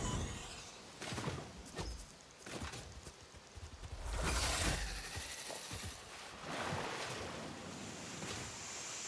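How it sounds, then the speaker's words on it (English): Footsteps wade through water in a video game, rough sloshing surges rising and falling under a windy outdoor ambience, fairly near and moderately loud. "I can hear myself trudging through water."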